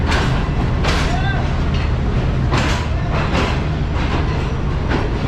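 At the old Rohri railway station in Pakistan, a train rumbles loud and close with rhythmic clacks and bursts of hiss, under the bustle of a busy platform.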